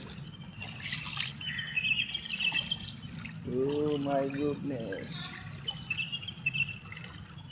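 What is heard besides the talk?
rainwater dripping and trickling after overnight rain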